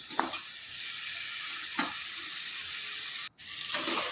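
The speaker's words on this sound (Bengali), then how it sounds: "ভালো করে মশলাটাকে কষিয়ে নিতে হবে" Spice paste sizzles steadily in hot oil for a ready-made chana dal dhoka curry, a constant near frying hiss broken by a few brief stirring scrapes and one abrupt momentary drop to quiet.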